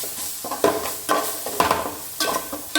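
Garam masala and Kashmiri chilli sizzle in a pan while being stirred for a mushroom fry, with soft steady frying under repeated scraping strokes of a spoon, close and fairly loud.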